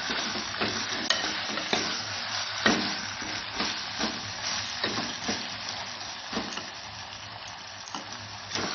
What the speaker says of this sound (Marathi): आता हे तोपर्यंत परतत राहायचं आहे